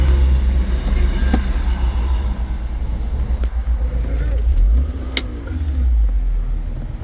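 A 2012 Mini Roadster Cooper S with a 1.6 petrol engine idles and runs close by in a low, steady rumble, with a few sharp clicks and a brief dip partway through.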